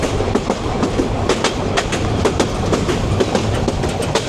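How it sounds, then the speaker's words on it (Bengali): A fully loaded local passenger train from Dhaka to Kishoreganj rolls along with a loud, close, rhythmic clickety-clack of wheels over rail joints above a constant rumbling bed of noise. "আজকের ভ্রমণ সঙ্গী কিন্তু আমাদের একা শুধু ট্রেন, এটা একদম লোকাল"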